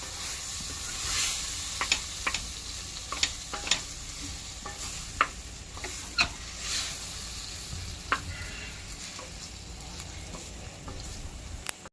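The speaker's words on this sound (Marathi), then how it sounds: "हे चांगले शिजवून घेऊया" Pav bhaji vegetables with tomato cooking in a pan, with a continuous frying sizzle and hiss punctuated by sharp, irregular clicks and scrapes of a spatula against the pan.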